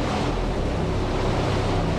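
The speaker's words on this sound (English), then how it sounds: "What a windy environment." Steady, loud rushing wind in a video game roars without pause, a dense broadband whoosh with no voices.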